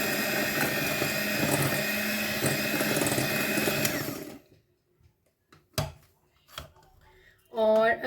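An electric mixer whirs steadily for about four seconds, mixing cupcake batter with oil, then cuts off, leaving a few clicks and a short voice.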